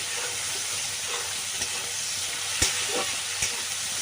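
Tomatoes fry with salt in a pan for a Bengali mushroom curry, giving a steady sizzle with a few soft scrapes and knocks of stirring, close and even throughout with no talking.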